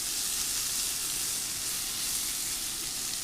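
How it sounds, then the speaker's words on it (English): Butter sizzles steadily in a hot pan, a continuous bright crackling hiss that stays close and even throughout, with no talk. "let's just drop some butter in there"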